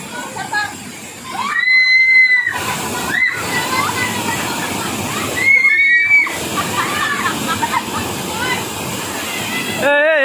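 Water sloshes and splashes continuously as a group of people bathe outdoors, with loud, busy watery noise and voices calling and talking over it throughout.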